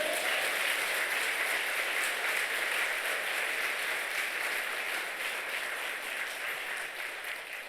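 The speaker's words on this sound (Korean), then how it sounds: "우리 하나님께 영광의 박수 합시다." A church congregation at an evening revival meeting claps together in a dense, steady wash of applause that carries on throughout and eases off a little toward the end, with no voices over it.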